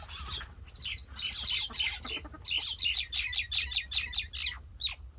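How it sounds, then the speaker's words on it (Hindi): Mynas squabble nearby in a village setting, giving a loud run of harsh, rapid squawks and chattering calls in repeated bursts, with no human speech over them. "वहाँ पर जो है ना मैना ने लड़ाई डाल ली है।"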